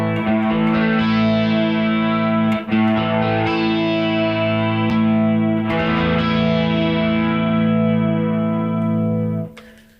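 Heavily effected electric guitar, chords ringing continuously with distortion and chorus, the tone shifting as the rig flips between wet and dry presets, with a brief dip near the third second.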